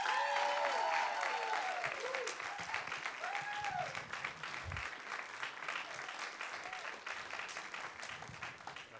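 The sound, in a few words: live audience applauding a storyteller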